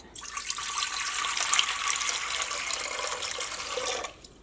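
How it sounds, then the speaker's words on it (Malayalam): Water streams steadily into a metal pressure cooker for about four seconds, a continuous bright hissing splash that stops abruptly near the end. "വെള്ളം ഒഴിക്കുക"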